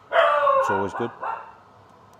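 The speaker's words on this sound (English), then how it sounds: "That is the dog barking." A dog gives a few short barks and yips in the background while a person talks over them, fairly close and brief.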